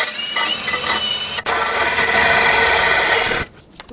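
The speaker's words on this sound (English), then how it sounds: "So now let's just switch to a regular drill bit and just finish drilling through." A regular drill bit grinds through the metal wheel hub of a 2009-2014 Honda Fit, a loud harsh whine in two close bursts that cuts off near the end.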